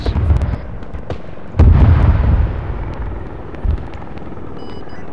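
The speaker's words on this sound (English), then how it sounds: "impacts from Warlord should be coming in right now" Helicopter strike impacts land in the Arma 3 military simulation: loud booming blasts, the biggest partway through and a smaller thud later, over a continuous helicopter rotor drone.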